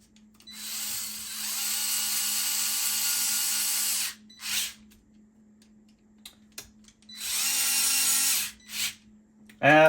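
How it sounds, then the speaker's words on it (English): A power drill drives screws into an RC crawler chassis, two long whirring runs each followed by short bursts of the motor, with quiet pauses between and a sharp click at the end. "when I'm actually drilling, I hold the drill very loosely"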